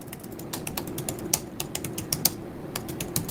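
Quick, irregular clicks of fingers typing on a computer keyboard, close and moderately quiet, keys tapped in short bursts over a low background hum with no speech.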